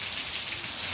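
Heavy rain pours steadily through roof gutters on an evening in Amaniutuba, Lavras da Mangabeira, Ceará, a dense, continuous wash of water with no pauses and no voices.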